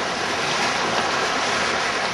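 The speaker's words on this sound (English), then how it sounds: "The waves come in short and frequent" Ocean waves wash onto an empty beach on a grey day, a steady, loud roar of surf mixed with wind rumble across the microphone, with no speech.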